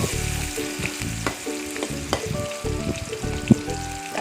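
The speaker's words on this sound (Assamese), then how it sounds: "পিঁয়াজখিনি ৰঙচুৱাকৈ ভাজিছোঁ" Onions frying in oil until reddish, a close, busy sizzle with repeated stirring scrapes and clinks of a utensil against the pan, steady throughout with no talk.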